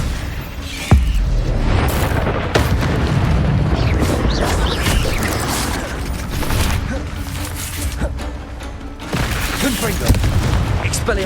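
Confringo spell explosions in Hogwarts Legacy: sharp booms and crackling blasts repeat through a busy magical combat scene, loud and close, with several sudden impacts over a constant noisy rumble.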